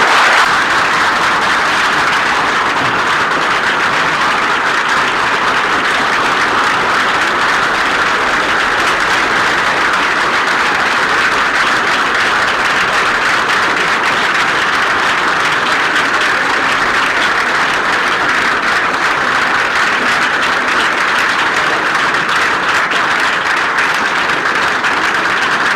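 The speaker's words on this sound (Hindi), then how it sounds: "सर के लिए एक बार ताली बजाइए सभी लोग।" Long, loud, unbroken applause from the assembled crowd at a rural intercollegiate school function in Uttar Pradesh, clapping for the principal, dense and steady from start to finish.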